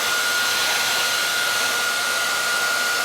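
A heat gun blows hot air onto the scuffed fender of a Saturn Sky Redline or Pontiac Solstice GXP, giving a steady, loud, close whooshing roar with a faint whine, unbroken for the whole stretch.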